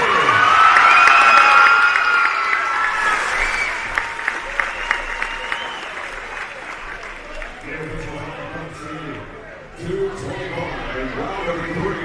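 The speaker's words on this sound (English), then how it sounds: "How about a huge round of applause for both of them" A crowd at an amateur boxing event applauds and cheers loudly, the clapping thinning out as scattered voices and an announcer's amplified speech take over near the end.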